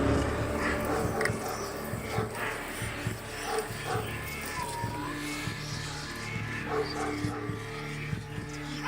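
Hunting dogs bark and yip repeatedly while cornering a pig in a forest, the barks overlapping in a busy, continuous din with a few faint whimpers.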